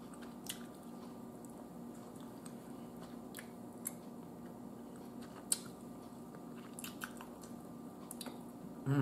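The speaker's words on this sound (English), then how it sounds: "That's gristle. Y'all hear it?" Close-up wet chewing on the gristle of a roasted Cornish hen, soft squishy bites and faint crunches in an irregular rhythm, quiet and intimate with no talking.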